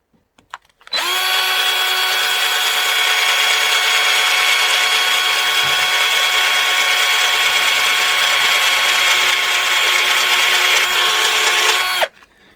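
A steady, loud electric drill grinds through a VW hubcap, running continuously at an even pitch for about eleven seconds before cutting off abruptly.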